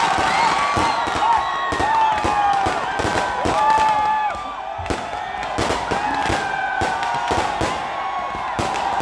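Fireworks crackle and bang through a New Year night celebration at Veli ground in Fort Kochi as an effigy of Pappanji burns, with a cheering crowd and voices talking throughout.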